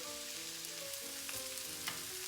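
Vegetables frying in extra virgin olive oil in a pan give a steady, quiet sizzle, faint and continuous, with a background musical tone.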